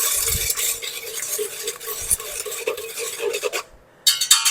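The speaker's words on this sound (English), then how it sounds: "I'm just going to mix this up a little bit to dissolve it a little bit" Ingredients for homemade bread dough mixed in a bowl, a busy continuous stirring and scraping that stops briefly near the end before starting again, close and fairly loud with no talking.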